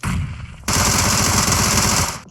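Automatic gunfire in the PUBG Mobile battle royale game, a brief burst followed by a longer sustained rapid rattle of shots, loud and continuous with no voices.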